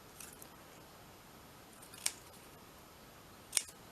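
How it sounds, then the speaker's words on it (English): Two quiet, separate snips of big scissors cutting paper for a calendar journal, crisp and close against a faint background hiss. "Let's cut this out quickly."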